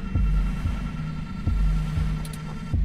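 Heartbeat thumps in the video game 2064: Read Only Memories: steady, heavy, low double-beat pulses repeating about every second and a half over a faint droning hum, close and alone.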